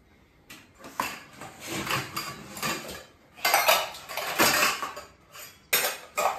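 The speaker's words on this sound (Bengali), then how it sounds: "বাসন ধুচ্ছে, বাসন টাসন ধোয়া হয়ে গেল।" Dishes and utensils being washed by hand at a village home, with repeated clinks and clatters of metal plates and cutlery, close and fairly loud, in bursts with brief pauses.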